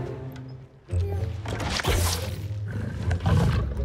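A tiger in the Spider-Man 2 video game lets out several loud, close growling roars, mixed with heavy thuds and crashing impacts from the fight.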